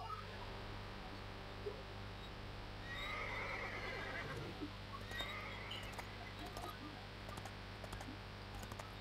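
A horse whinnies in the fantasy video game Runes of Magic, a drawn-out neigh rising from the quiet, followed by a few light hoof clops and faint clicks over a low steady hum.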